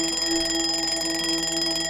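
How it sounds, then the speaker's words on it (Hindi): An alarm clock rings with a steady, continuous electronic tone, loud and unbroken throughout, with no voices. "अलार्म की घंटी से सिर्फ मेरी नींद नहीं, मेरे सपने भी टूट जाते थे"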